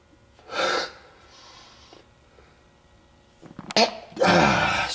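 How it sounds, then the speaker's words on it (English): A single person sneezes at close range, with a short sharp burst preceded by a quick breath, later followed by loud breathy snorting or a second sneeze-like burst, while polishing a stained glass panel. "Excuse me, had to sneeze."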